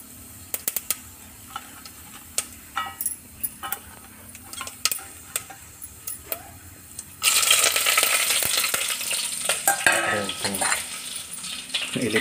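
Cumin seeds and curry leaves hit hot oil in a pan for dal curry, with light clinks and stirring first, then a loud, steady sizzle that flares and carries on to the end.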